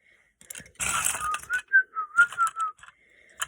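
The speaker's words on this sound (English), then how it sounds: "Yeah, I like to whistle." A person whistles a short wavering tune while building with Lego, a few sliding notes close and clear, with some brief rustling and clicks before the melody.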